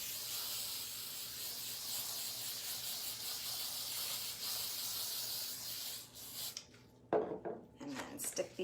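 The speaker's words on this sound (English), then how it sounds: "use my spray adhesive, and I'm just gonna spray a light coat on there." Spray adhesive applied in a light coat as one long, continuous aerosol hiss up close, followed by a pause and handling noises with a voice speaking briefly.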